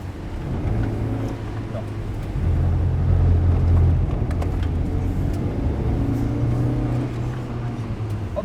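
A car driven sideways in a drift session, its engine droning and surging under throttle at close range, with a voice speaking over the steady rumble.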